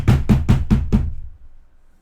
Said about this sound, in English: There's a big bang on the door.